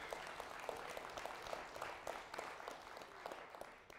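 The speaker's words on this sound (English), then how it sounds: "Yeah, you should clap for that." A church congregation claps during a Resurrection Sunday sermon, a soft but steady patter of many hands with brief louder bursts, heard from a distance.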